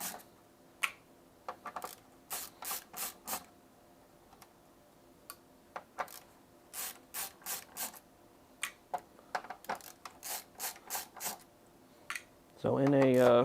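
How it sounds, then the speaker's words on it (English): Screws being taken out of a PS5 Slim console during an HDMI port repair: a long run of sharp, close ticks and clicks in irregular bursts, with a brief louder mechanical rattle near the end. "stuff like this, removing all these screws"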